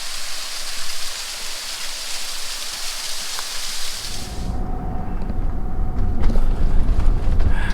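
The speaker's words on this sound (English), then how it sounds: "A छोटा सा झरना, look at that," Small waterfall at the Tillari Ghat viewpoint, a steady loud rush of falling water for about four seconds that cuts off into rougher, lower outdoor noise with faint clatter.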